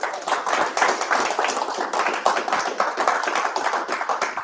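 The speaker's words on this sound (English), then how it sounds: "Give a round of applause." At a wholesale-deals lunch-and-learn, a small audience gives a round of applause, a brisk scatter of individual claps, sharp and fairly close, sustained evenly without talk over it.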